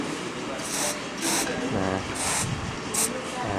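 A spray can of blue cleaning spray is aimed at a fan's control circuit board in several short hissing bursts, with someone talking throughout.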